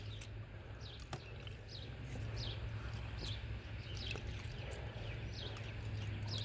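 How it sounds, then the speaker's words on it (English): Repeated high chirping bird calls ring out at steady intervals over a constant low outdoor hum, with occasional faint clicks. "if y'all can hear, the birds have started returning"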